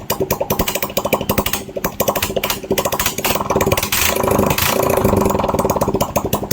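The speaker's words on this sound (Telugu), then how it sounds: "ఇంజన్ సౌండ్ చూడండి ఎలా ఉంటుందో." A Honda Shine motorcycle engine, after a full engine fitting, runs close by with a rough, throbbing idle, briefly revving louder toward the end; no one speaks.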